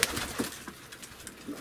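Pigeons in a pigeon loft give soft, low cooing calls, a few murmured coos spread over a brief stretch with quiet room background.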